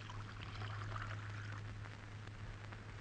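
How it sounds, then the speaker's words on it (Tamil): Liquid poured steadily into a glass during a drinks moment, a continuous close trickling splash over a low background hum, with no talk. "ஐயாவுக்கு ஒரு கிளாஸ் ஊத்துறா."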